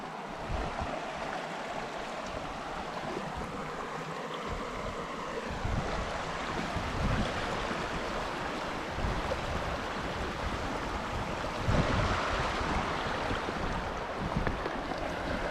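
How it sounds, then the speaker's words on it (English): The River Isla in Scotland rushing past midstream, a steady broad wash of moving water mixed with wind buffeting the microphone, with no talk. "I'm right in the middle of the River Isla right now"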